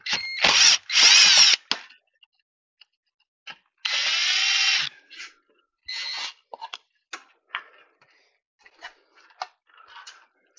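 Power drill driving a screw into a 1982 Bonair 1200 pop-up camper with rotten wood, two loud close whirring bursts then another longer one, followed by scattered clicks and small tool noises.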